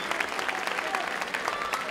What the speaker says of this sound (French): on peut quand même les applaudir. Bravo à eux.